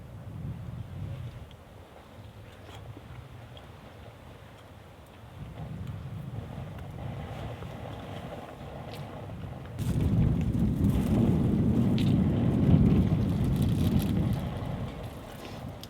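Wind at a winter campsite in 17°F cold, buffeting a rooftop tent and its awning, with steady rumbling microphone-buffeting gusts that swell noticeably louder partway through and stay strong, and no talking.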